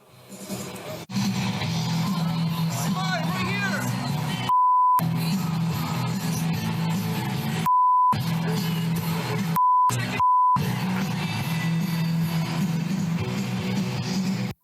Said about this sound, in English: They beeped it.